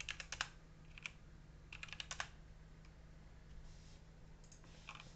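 Quiet computer keyboard typing in short clusters of soft clicks, a few quick bursts separated by pauses, close and faint over a low steady hum.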